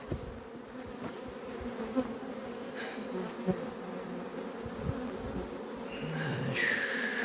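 Honeybees from a weak, varroa-damaged colony climb a ramp into their hive, making a steady, close, continuous buzz with a few faint knocks and rustles beneath it.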